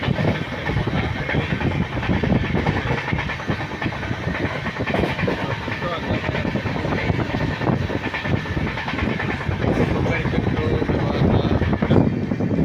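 A passenger train runs steadily along the rails in Tamil Nadu, a continuous loud rumble with wheel and carriage noise heard from on board, no voices.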